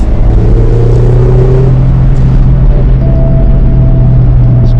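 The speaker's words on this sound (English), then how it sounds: "Makes a really nice induction sound." A steady engine drone with a rising intake whine and rumble, heard from inside a moving 2016 Mazda MX-5, continuous and fairly loud.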